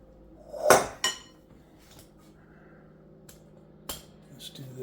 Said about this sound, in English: We are going to scrape the spaghetti squash out from the inside.